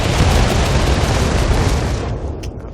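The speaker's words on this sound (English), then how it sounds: "it's got some shrapnel explosions, and it's really good at taking out a cluster of infantry" Surface-to-surface rocket artillery in the video game StarCraft 2 fires shrapnel explosions as a loud, continuous rumbling barrage of blasts and crackle. It fills the whole span and thins slightly at the end, with no voices.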